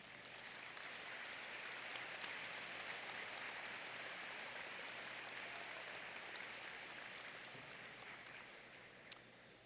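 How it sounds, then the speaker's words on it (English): A packed auditorium audience at a university commencement claps in sustained, dense applause that holds steady for nearly ten seconds before tapering slightly at the end. "Would you give them a round of applause?"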